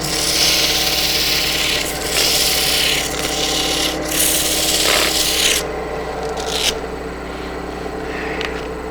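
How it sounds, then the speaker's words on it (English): Steady abrasive rubbing of sandpaper against a wooden quaiche bowl spinning on a lathe, a continuous raspy hiss with slight shifts in pressure and pitch, no voices. "When you're sanding, each successive grit should really only be taking out the scratches for the last grit."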